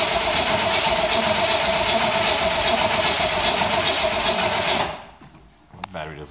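A Suburban's engine cranks on a weak battery during a cold start in a workshop, giving a loud, steady, rapid churning for about five seconds before it cuts off.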